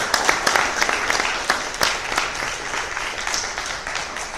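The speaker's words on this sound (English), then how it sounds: "Let's give a round of applause." Audience applause at an influencer event, a dense wash of many hands clapping steadily and fairly close, with a few sharper claps standing out and no voices over it.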